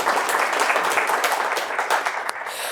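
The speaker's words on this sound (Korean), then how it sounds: "모든 분들께 힘찬 박수 한번 주시면서" A seminar audience at a Korean pig-farming presentation gives a dense, vigorous burst of clapping that fills the room. It stays loud and continuous for a few seconds before easing slightly toward the end.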